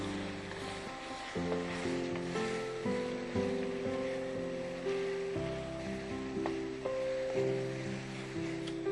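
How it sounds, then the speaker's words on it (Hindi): Koftas fry in a pan with steady, dense sizzling and crackling across the whole stretch, close and continuous, with background music playing underneath. "कोफ्ते डालने के बाद थोड़ी देर और फ्राई करेंगे इनको।"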